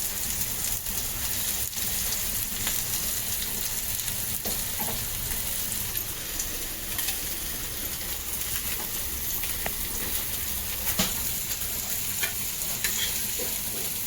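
Semolina-coated pomfret fish fries on a hot tawa with a dense, continuous crackling sizzle, close and even, broken by occasional sharper pops and spatula scrapes, with no voices.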